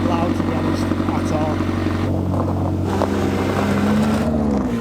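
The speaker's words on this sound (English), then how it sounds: "that's a cold start and it's not really that loud" A car with a straight-piped Inconel exhaust idles on a cold start with a deep, steady rumble and a throaty exhaust note, while a voice talks over it.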